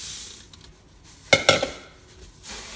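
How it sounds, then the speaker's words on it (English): Crispy rice cereal, here made with crickets, being stirred with marshmallow mix in a bowl, giving a couple of short, close scraping and clinking strokes around the middle, with quiet gaps on either side and no talk. "we're gonna stir them up until the cereal and the marshmallow mix are evenly coated"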